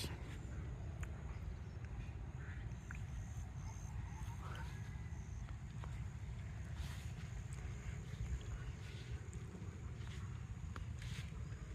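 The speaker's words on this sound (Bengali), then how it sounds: "এই যে এখন বাতাস চালাইছে মনে হয় ঠান্ডা হলাইব এই যে অনেক বাতাস" Strong wind blows by a riverbank in a Bangladeshi village on a cold, foggy morning, a steady, close buffeting roar across the microphone that lasts the whole time with no talking.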